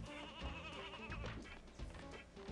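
Sheep bleating in the video game Silicon Valley, a faint, wavering animal cry that runs through a short stretch with game ambience underneath.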